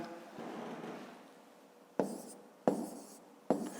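Pen or pencil writing numbers for a long division sum on paper, quiet scratchy strokes followed by three short, sharp taps or marks, with no talk.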